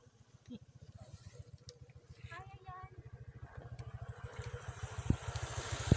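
A motorcycle approaches on a steep mountain road, its engine a rapid low pulsing that grows louder as it nears, with voices talking over it.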